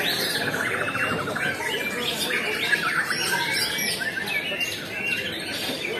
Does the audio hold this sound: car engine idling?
no